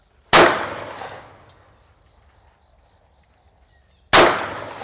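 Two sharp pistol shots from a Sig Sauer P365 fired outdoors on a rainy range, spaced about four seconds apart, each a loud crack trailing off into a short echo.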